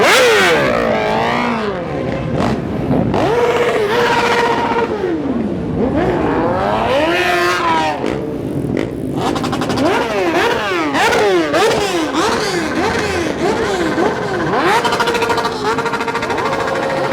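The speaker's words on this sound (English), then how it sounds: "Some beautiful bikes leaving this amazing event today here at Motorcycle Mall." Liter-class superbikes such as a BMW M 1000 RR, Aprilia RSV4 Factory and Ducati Panigale V4 leave an event one after another, each revving hard through rising, swooping gear-change sweeps, loud and close, with a voice briefly heard beneath.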